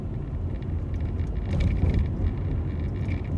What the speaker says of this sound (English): here I am driving a, you know, a piece of crap Toyota Camry Solara